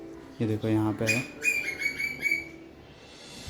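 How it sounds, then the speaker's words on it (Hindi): Squirrel calling out for food in the morning, a rapid series of sharp, high chirps in short bursts, fairly close, with a person speaking briefly over the calls. "वो गिलेरी कर रही है क्योंकि उसको खाना चाहिए।"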